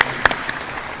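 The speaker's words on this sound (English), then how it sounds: "a round of applause for Byron and his" Brief burst of audience applause at a Pittsburgh business event, a short spatter of claps with a sharp peak near the start, fairly close and alone.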